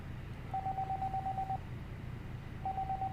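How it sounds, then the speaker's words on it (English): Phone ringing in the video game 428 Shibuya Scramble: two steady electronic tone bursts about a second apart, quiet over a low background hum. "Then Kanan's phone rang and she reached to answer it"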